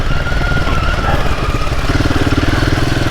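A Royal Enfield Himalayan 450 adventure motorcycle rides up and down a clay trail hill, its engine a steady, throbbing chug that stays close and loud for the whole stretch, with no talking.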